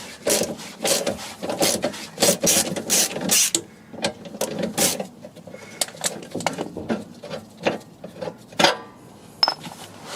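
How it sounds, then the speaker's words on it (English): Metallic clanks and ratcheting as a bolt is worked loose on the front suspension of a 2015 Ford Fiesta MK7 during a wishbone replacement, a close, irregular run of sharp knocks and clicks, busy at first, then sparser. "So I'm just going to take this bolt out now."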